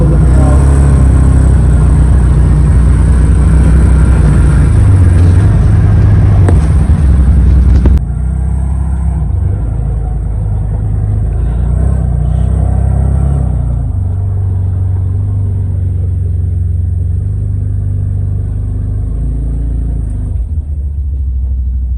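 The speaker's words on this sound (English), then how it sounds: "video this badass CF moto pulling me out" CFMoto off-road vehicle engine straining as it pulls another vehicle out of a mud hole, a loud continuous low rumble that drops back partway through and keeps droning steadily.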